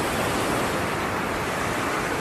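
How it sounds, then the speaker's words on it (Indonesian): Beach waves up to two metres high surge onto an eroding shoreline at Lemong village, a dense, unbroken roar of surf and wind that fills the whole clip with no voices. "Ombak pantai di Desa Lemong mencapai 2 meter."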